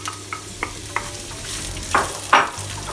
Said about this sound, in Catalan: l'oli està calent, tirem el porro